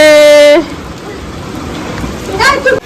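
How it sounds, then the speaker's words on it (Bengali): Heavy rain pours down in a steady, dense wash, with a voice briefly heard at the start and again near the end. "মেঘ ডাকছে কি জোরে বৃষ্টি হচ্ছে"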